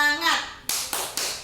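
A group doing a rhythmic spirit clap, three crisp claps in an even beat after a voice, fairly close, each clap ringing briefly.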